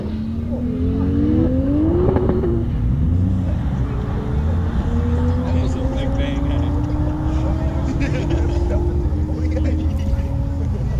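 Nissan GTR drag car at a drag race, its engine droning and rising in pitch as it pulls away down the strip, loud and steady over crowd and track noise, with a voice speaking over it.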